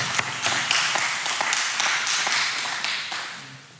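A small group at a Bible study claps hands in a steady, even rhythm, each clap crisp and close, continuing for several seconds before tapering off.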